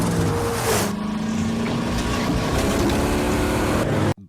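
A car chase from the 1996 action film Barb Wire: a loud, steady engine roar with a churning low rumble runs for several seconds, then cuts off abruptly.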